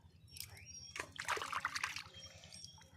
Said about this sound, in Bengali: তাই আম গাছে তলায় বসে ছাওয়াতে মাছগুলো ধুয়ে নিচ্ছি